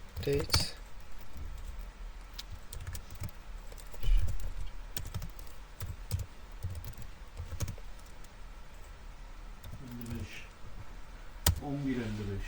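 Typing a command on a computer keyboard into a Linux terminal, irregular quiet key clicks scattered across the stretch with a few louder taps, while someone talks.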